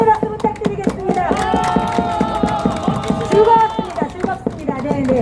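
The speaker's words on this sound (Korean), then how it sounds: "우리 임 대표님 다시 한번 응원의 박수 부탁드리겠습니다" Crowd at an outdoor street rally near Gangnam Station clapping for a representative, a steady patter of many hands under a busy wash of voices and tonal chatter throughout.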